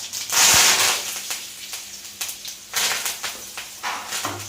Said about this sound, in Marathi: जिरं मोहरी नंतर त्यात आपल्याला एक छान अशी टेस्ट येण्यासाठी टाकायचं आहे कढीपत्ता